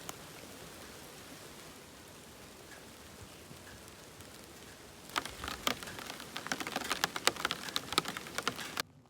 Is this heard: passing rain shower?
yes